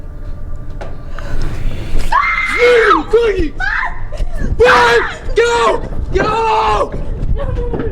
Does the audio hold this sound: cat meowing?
no